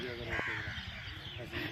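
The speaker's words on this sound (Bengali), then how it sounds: "ওদিকে আরো কাক আছে, চলো পায়রা আছে" Crows caw loudly nearby at Fatehpur Sikri near Agra, a harsh call or two standing out over background voices and outdoor chatter.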